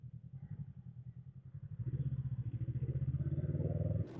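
A Honda CMX 500 Rebel motorcycle running close by with a steady pulsing engine note that rises as the rider opens the throttle partway through.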